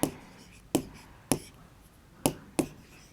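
Chalk strikes a classroom board in a series of five sharp, separate taps spaced irregularly over a few seconds, close and clear against a quiet room with no talking.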